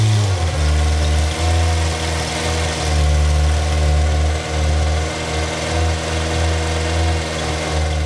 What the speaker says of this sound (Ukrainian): Ревіння двигуна та звук від лопастей, які розсікають повітря